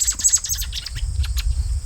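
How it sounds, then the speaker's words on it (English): A bird calls inside a barn stacked with rough sawn lumber, giving a quick series of high chirps and tweets close by, the clicks bunched at the start and thinning out over a low room rumble. "oh, such a handsome bird"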